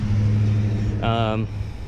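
A BMW 328i E36 with no muffler sits near with a low, steady engine drone, then blips once into a short, loud rev with rising harmonics before settling back to idle rumble.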